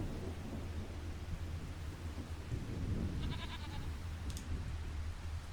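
Goats bleating in a survival video game, a short wavering bleat briefly rising above a steady, loud bed of rain and rumbling thunder that runs throughout.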